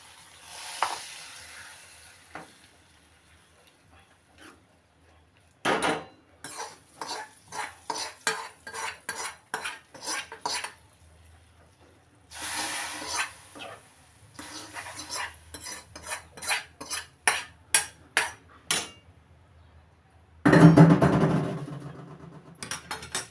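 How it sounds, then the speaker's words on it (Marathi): Tempering is poured into masoor dal in a pot and stirred in: a sharp sizzle, then a series of rhythmic scraping and clinking spoon strokes against the pot, with another loud burst of sizzling near the end. "नंतर तो तडका त्याच्यामध्ये टाकून घ्यायचा मसूरमध्ये"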